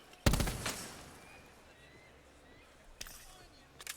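Gunfire in a Call of Duty pro match: one loud, sharp burst of shots early on, then two fainter, brief volleys later against a quiet background.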